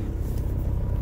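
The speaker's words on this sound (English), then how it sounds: "Turn this engine off here." An engine idles with a steady low rumble, close and constant for a short moment.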